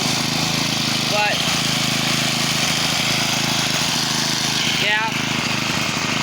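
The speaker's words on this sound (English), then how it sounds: "We'll go ahead and start it up." A Troy-Bilt 4-cycle weedeater engine runs loud and close with a continuous buzzing drone and brief revving rises; a person speaks briefly over the engine noise.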